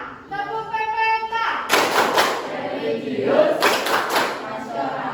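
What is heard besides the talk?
class doing the PPK clapping chant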